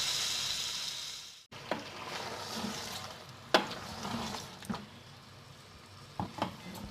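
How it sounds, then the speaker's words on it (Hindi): Bottle gourd sizzles and hisses as it fries in a pan, with a steady bright crackle broken by a few sharp scrapes and clicks of stirring, close and fairly loud. "मैं घिया को भून रही हूँ, इसको 10 मिनट तक हम भुनाई करेंगे।"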